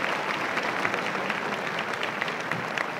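Audience at a high school prom court assembly applauds steadily, a dense, even wash of clapping from many hands with no speech over it.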